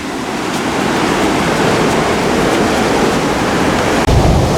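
Sea surf on the Bulgarian Black Sea coast, a steady loud wash of breaking waves filling the scene with constant broadband roar, slightly swelling near the end, no voices.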